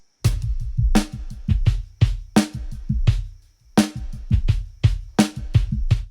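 A kick drum and a snare play alone in a steady groove, punchy low thumps alternating with sharp snare cracks, close and dry, with a brief gap midway.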